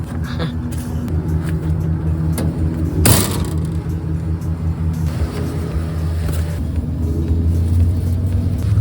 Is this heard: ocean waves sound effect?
no